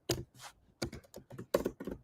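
Computer keyboard keys clatter in a few quick bursts of close, light tapping, alone without any talking.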